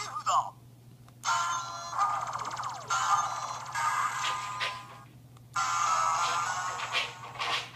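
Kamen Rider W Kirifuda Gaia Memory toy from the Sound Capsule Gaia Memory Vol. 7 set playing three electronic sound effects: loud, close synthesized bursts and ringing tones split by brief pauses, over a constant low hum.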